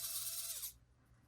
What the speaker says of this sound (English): I'm just going to take my drill and I'm going to go right to the top